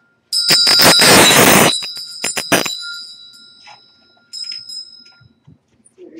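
A ritual bell rings out loud and bright at an autumn equinox Mabon ceremony, a rapid shimmering burst followed by a few separate strikes, then a softer ring later, alone without speech.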